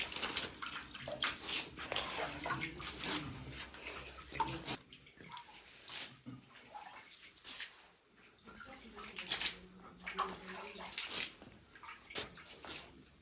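Water splashing and pouring onto mud during hand plastering of a village house floor at night, in irregular wet bursts with quieter gaps, close by.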